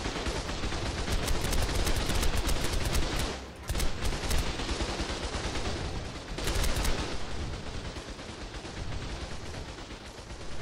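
Dense, continuous gunfire in the video game ARK: Scorched Earth, rapid cracking shots packed tightly together at high volume, with two short lulls, one near the middle and one later, and no talk.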